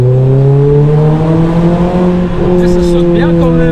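A Renault Clio 3 RS with an aftermarket exhaust line revs loudly and steadily close by, its engine tone rising slowly across the clip with a brief dip midway.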